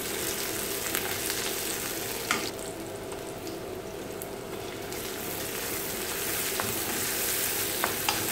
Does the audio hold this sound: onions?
yes